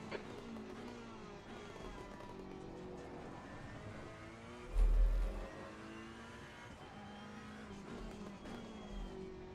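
A GT race car engine in Assetto Corsa Competizione drones continuously at racing speed, with shifting engine pitch, a brief low thump midway and occasional tire noise, heard alone and fairly quiet.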